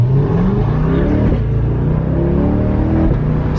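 A 2020 C8 Corvette accelerating hard, its engine note loud and close, revving up and rising in pitch over several seconds with a brief shift partway through.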